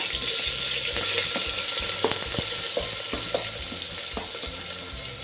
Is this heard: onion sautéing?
yes